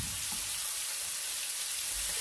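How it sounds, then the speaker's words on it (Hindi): Nigella seeds and ginger garlic paste fry in a pan for chicken tikka masala, giving a steady, soft hiss of frying with no voices over it. "इसको हम तकरीबन 2 मिनट तक भूनेंगे।"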